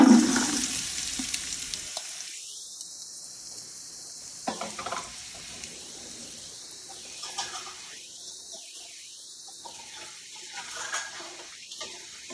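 Onion, celery and carrots hitting hot olive oil in a soup pot, a loud burst of sizzle at first that fades into softer crackling, with intermittent gentle stirring swishes and scrapes.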